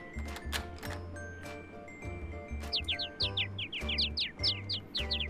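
Short, bright bird chirps repeat in quick runs over a looping electronic video game soundtrack with a steady bass pulse, the tweets clear and fairly close.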